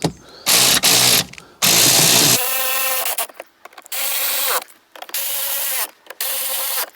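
Repeated whirring bursts from a power screwdriver driving the screws that hold an aftermarket stereo in a Fiat 500 dashboard, close and loud, with short pauses between runs.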